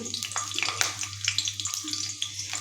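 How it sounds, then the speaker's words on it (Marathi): Green chilies roast in a pan for sabudana khichdi, a light crackling sizzle near the microphone with small spitting pops and occasional scrapes, no voices. "आता सुरुवातीला मिरची भाजून घेऊया"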